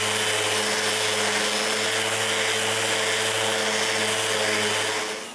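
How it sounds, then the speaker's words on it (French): A power sander runs on wood pieces for a hand-tool holder, making a loud, continuous, close-up whirring drone with a steady hum that tapers off at the very end. "je peux sabler tout ce qui va se retrouver à l'intérieur du support jusqu'à son grain final"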